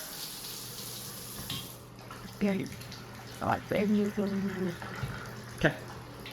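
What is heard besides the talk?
bathtub faucet running with strong water pressure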